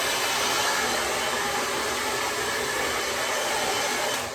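A hair dryer blows close and loud in one continuous, even roar while drying a non-surgical hair replacement system, then fades slightly at the very end, with no voices.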